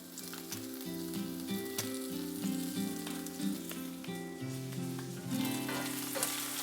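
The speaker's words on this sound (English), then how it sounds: "Pan back on medium heat, add in 2 tablespoons of chili oil. Onions, garlic, and ginger." Onions, garlic and ginger hit hot chili oil in a pan on medium heat, a steady close sizzle and frying crackle with light stirring clatter throughout.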